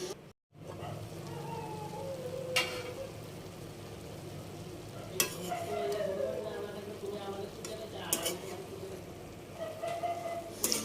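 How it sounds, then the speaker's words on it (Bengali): Amaranth leaves added to a pan of fried onion and garlic crackle and sizzle softly, with occasional scraping stirs and faint voices in the background. "পেঁয়াজ আর রসুন ভেজে নেওয়ার পর আমি এখানে ডাঁটা শাকগুলো দিয়ে দিচ্ছি"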